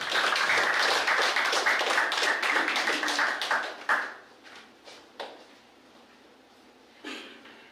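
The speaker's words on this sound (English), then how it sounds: "Let's please give her a warm round of applause." Warm round of applause from an audience at a youth day gathering, loud and dense for about four seconds, then fading into scattered claps and a few isolated sounds.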